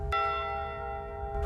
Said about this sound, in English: they will once again ring the bell 29 times to honor them